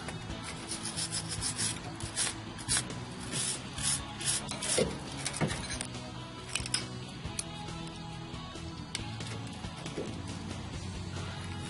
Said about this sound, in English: I'm just going to take a wire brush, remove some of the scale around the brake line to caliper fitting.